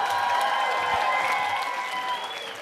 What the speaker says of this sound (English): Give Regina another round of applause, everybody.